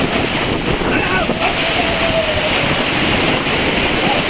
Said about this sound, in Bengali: এত পরিমাণ তুফান দেখুন একটিবার।